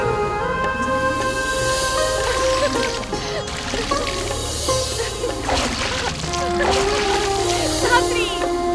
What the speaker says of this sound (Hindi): नहीं धात्री, मैं तो आज निश्चय करके आई हूँ, स्नान करूंगी तो नदी में।